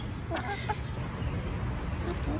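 Wyandotte hen clucking in a backyard flock, a few soft, brief clucks heard close over steady background noise.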